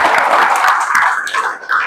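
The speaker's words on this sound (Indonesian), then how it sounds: "tepuk tangan dulu untuk kelompok 4." A class applauds a student group: dense, close clapping from many hands in a classroom, loud and continuous for a couple of seconds.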